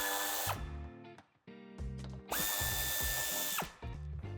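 Power tool on an Audi A5 Sportback (2017-2019) undoing plastic nuts under the bumper: several close, loud whirring bursts that rise and fall in pitch, separated by short pauses and small clicks.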